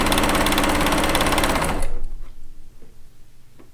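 A sewing machine stitches a quilt top in a fast, close, rattling run that stops abruptly partway through, leaving faint clicks and handling noises.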